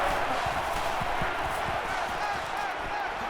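Stadium crowd roar in an NCAA 14 college football video game, Wisconsin at Alabama, a dense, steady wall of noise from a loud home crowd on third down, with low thumps underneath and no talk.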